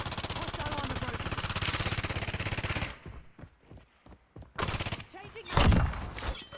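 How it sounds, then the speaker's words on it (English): Rapid automatic gunfire in the video game Warzone, a loud sustained burst of shots, then a lull with scattered thuds before further close bursts of fire. "Incoming shots."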